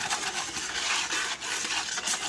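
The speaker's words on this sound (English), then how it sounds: "you want to whisk this really well" A whisk stirs dry seitan ingredients, including seasoning and nutritional yeast, around a bowl, making a close, steady scratchy swishing with a quick rhythmic pulse.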